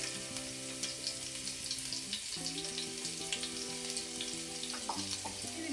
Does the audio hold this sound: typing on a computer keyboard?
no